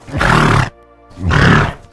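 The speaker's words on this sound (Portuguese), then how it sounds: "A égua bufou para ele." A mare snorts twice at close range, two loud breathy bursts about half a second apart with a brief quiet gap between them, heard alone without any talk.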